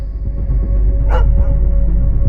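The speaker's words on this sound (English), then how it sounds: "dozens of dogs howled in the distance" Dogs bark and yelp far off over a low rumbling, droning background, with one short burst standing out briefly in the middle.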